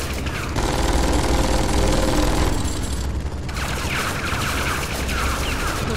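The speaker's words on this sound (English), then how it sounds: "I can run through the gunfire." Sustained automatic gunfire rattles in the video game Tales from the Borderlands, a loud dense fusillade of rapid shots and impacts that continues through the whole stretch, briefly thinning before resuming at full intensity.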